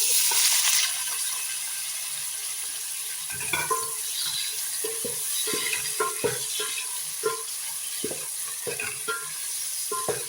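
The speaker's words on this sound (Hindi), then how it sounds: "अब टमाटर डालूंगी।" Tomatoes go into a hot pot and sizzle as a wooden spoon stirs them, producing a steady frying hiss with repeated soft scraping and knocking strokes, close and fairly loud, during home cooking of beef biryani pulao.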